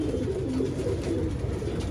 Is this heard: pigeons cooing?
yes